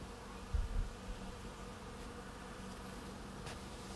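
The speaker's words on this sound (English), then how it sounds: "maybe you can still hear all the bees" Bees buzzing among flowering Siberian apricot trees in early spring: a faint, steady outdoor hum with a couple of soft low bumps near the start and no voices.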